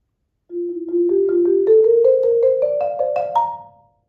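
Percussion audition excerpt of two measures, a steady run of evenly spaced strokes climbing gradually in pitch and swelling from extra soft to extra loud, played alone before fading out.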